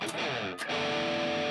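An electric guitar through the Poulain Legion amp plugin gives a brief, dense, gritty burst of sustained distorted tone lasting under two seconds, close and full.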